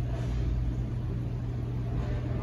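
A Stihl or Echo string trimmer engine holds a steady, loud drone at high throttle, running continuously without breaks, close by and alone with no voices.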